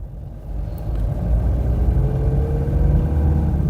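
A car with a semi-automatic gearbox that has a fault and will not engage second gear drives off, its low engine rumble swelling after a quiet start and holding steady.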